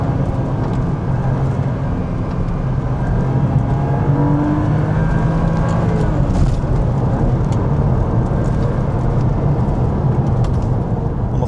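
A base-model Porsche Boxster 986.2 driven along a road, its engine droning steadily under heavy road and wind rumble, loud and close throughout, with the engine note rising a little near the middle and no talk.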